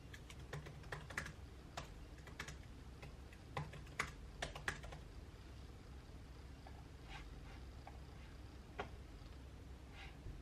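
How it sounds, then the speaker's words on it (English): Computer keyboard typing while entering a hotel link from Expedia for a blog post, with irregular bursts of close, crisp key clicks separated by short pauses over a low steady background hum, no talking. "and I'll type it in"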